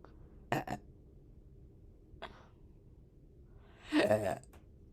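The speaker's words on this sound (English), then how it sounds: "I keep on burping without saying excuse me" A person burps after eating garlic bread, with two short throaty bursts and then a longer, louder rumbling belch near the end, close to the microphone in a quiet room.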